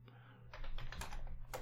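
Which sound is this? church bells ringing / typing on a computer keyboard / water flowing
typing on a computer keyboard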